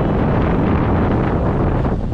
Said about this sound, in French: elle est à la barre d'un navire qui se prend des grandes rafales dans la gueule